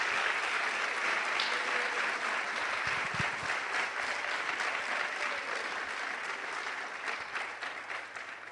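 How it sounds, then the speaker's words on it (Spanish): A church congregation claps loudly at a Spanish-language service, a sustained dense wash of many hands that fades slightly toward the end. "Dele un fuerte aplauso al Señor si lo cree."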